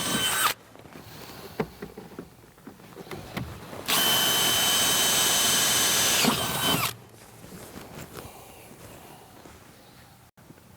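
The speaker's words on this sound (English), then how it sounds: "You'll need to drill these two afterwards." A power drill whines loudly for about three seconds drilling bolt holes for a Jeep XJ sport cage, with quieter workshop clatter and handling noises before and after.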